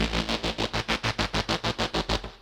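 A synth patch processed with a Drum Buss plugin pulses in a fast, steady rhythm of punchy, gritty, saturated hits, loud and alone with no talking.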